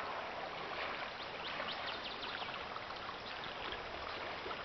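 A big river flows in a steady, broad rushing wash of water, continuous and moderately loud, heard alone in a remote outdoor setting.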